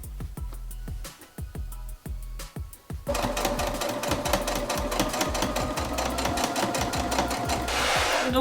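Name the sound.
sewing machine closing a plush toy seam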